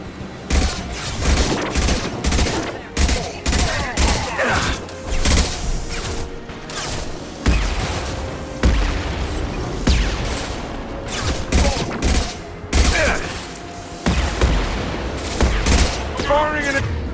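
Impact shots and other gunfire crack out in a Mass Effect battle at a warlord's outpost, sharp bursts and booms repeating irregularly and loudly over a busy combat soundscape, with voices talking between the shots.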